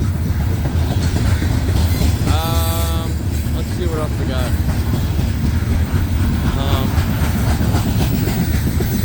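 CSX freight train C785 crawls past in the rain with a loud, constant rumble of rolling cars. A few wavering wheel squeals rise out of it, and someone speaks briefly over the noise.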